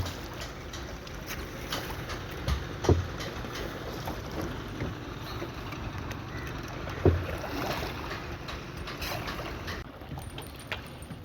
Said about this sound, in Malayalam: നമ്മൾ വള്ളത്തിൽ സഞ്ചരിച്ചുകൊണ്ടിരിക്കുകയാണ്